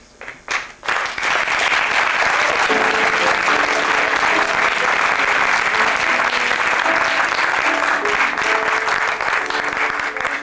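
Sustained audience applause fills the room after a brief pause, a dense, steady wash of many clapping hands at a screening of the 1988 film "Et si on jouait ?" by Gérard Courant, loud and continuous throughout.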